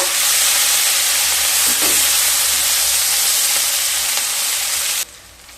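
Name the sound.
onions frying lightly in oil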